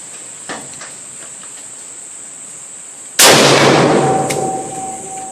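A single loud rifle shot cracks while zeroing a thermal scope, sharp and close, then decays over a couple of seconds against a steady high insect-like whine, with no talking.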